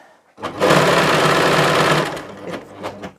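A sewing machine stitches a fabric headband, running steadily for about a second and a half, then stopping and starting in a few short bursts, close and loud.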